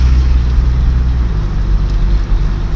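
A Toyota truck engine hums loudly and steadily at close range as the transmission shifts into second gear, a sustained low drone with no talk.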